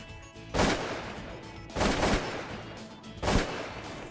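Three loud shotgun blasts ring out about a second apart during a duck and goose hunt for pintail and mallard drakes and Canada geese, each a sharp crack trailing off, with no talk in between.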